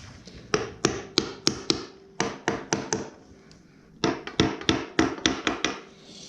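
An engine's flywheel and starter clutch are worked loose for removal, with bursts of sharp tapping strikes on metal in three quick groups, close and clear, with no talk.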